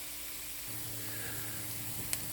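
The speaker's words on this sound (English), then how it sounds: "So I'm going to let this saute for just a moment" Garlic sautéing in a pan as the start of a tomato sauce, a soft steady sizzle and hiss heard alone at low level, with one small click near the end.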